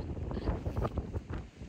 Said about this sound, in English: Very windy there.